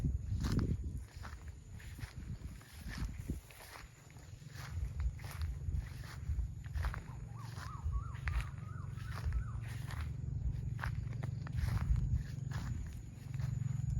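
Footsteps crunch along a path through a rural Thai garden among mango trees and grass, a steady close walking rhythm over a constant low hum, with birds calling faintly in the background.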